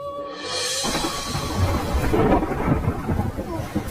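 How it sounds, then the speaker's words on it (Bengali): Thunder rolls over steady rain during a thunderstorm, a low rumble swelling midway and continuing to the end, with the rain's hiss constant throughout. "এত গরমের পর একটু বৃষ্টি এসেছে"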